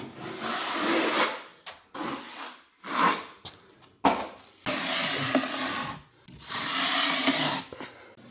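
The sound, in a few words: spreading drywall mud onto rough walls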